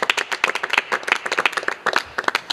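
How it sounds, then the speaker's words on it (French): Loud, close clapping from a worship audience cheering for God during a musical gathering, a dense irregular run of sharp hand claps with no voices over it. "Est-ce qu'on peut acclamer très fort pour le Dieu très fort?"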